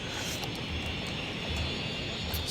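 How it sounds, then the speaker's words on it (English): Steady aircraft engine drone from DHL cargo planes at a cargo terminal in Cities: Skylines, a continuous broadband roar with no distinct events, alone without talk. "So there's a lot of planes right there."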